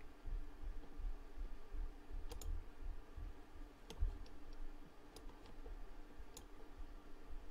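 Sparse, faint computer mouse clicks while editing in Adobe Premiere, several single and double clicks spread over a low steady background hiss.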